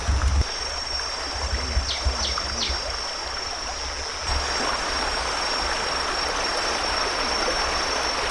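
A small stream flowing near a hot spring in Phang Nga, a steady soft rushing of water that continues throughout, with a faint high tone above it.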